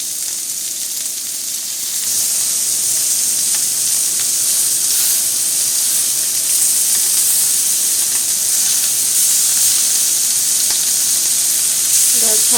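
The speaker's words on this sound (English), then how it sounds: "It's cooking. It cooks fast, and I tried not to overcook the meat, or else, especially beef" Beef sizzles on a Korean BBQ grill with a loud, steady hiss and crackle of frying fat that continues unbroken throughout.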